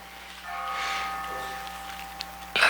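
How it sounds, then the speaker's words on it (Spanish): A distant church bell rings with a sustained, humming tone that swells and fades, followed by a sharp clatter close by at the end. "las campanas de la iglesia están sonando"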